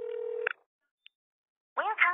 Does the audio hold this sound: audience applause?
no